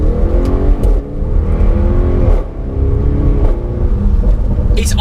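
An Audi RS6 Performance fitted with an Akrapovic titanium exhaust system drones loudly and close, a steady low engine note that dips briefly twice and climbs again under light throttle.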